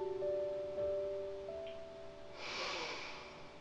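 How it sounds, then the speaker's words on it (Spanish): A person exhales a long, soft breath during a guided yoga relaxation, a close, breathy rush rising over a sustained calm music drone. "Botamos el aire."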